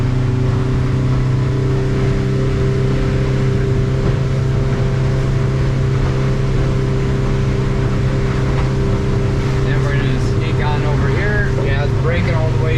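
A Hewescraft 220 Ocean Pro boat with a Yamaha F200 outboard pulls away from the dock, its motor droning steadily with a constant tonal hum as throttle is added; water and wind noise rise near the end.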